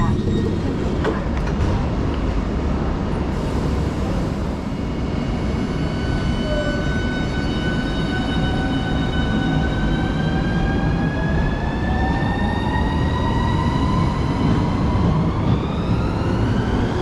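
Steady loud rumble of a train pulling into Dover Priory station, with continuous wheel and traction noise and rising and falling whining tones as it slows, heard from on board.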